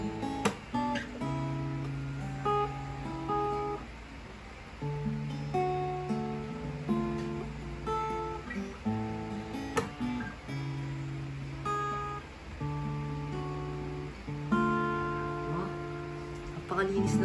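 A new acoustic guitar is strummed and picked through a short intro piece, with full, bright string tones ringing close and clear and chords sounding in a steady rhythm.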